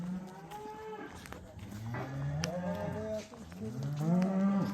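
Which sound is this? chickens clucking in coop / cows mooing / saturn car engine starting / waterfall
cows mooing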